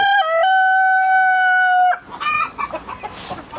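A rooster in a coop crows loudly and close by in one long drawn-out call, then chickens cluck and squawk in short, uneven bursts.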